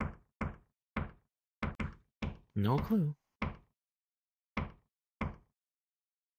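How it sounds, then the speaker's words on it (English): Repeated knocks on a morgue door inside a VRChat horror game, sharp raps in small irregular groups spread across several seconds, with a brief spoken remark in between. "Why am I knocking on a morgue door?"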